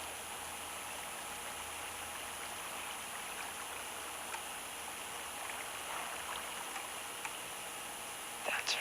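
River water flows in a steady, broad hiss that stays even throughout, with a few faint knocks and rustles near the end.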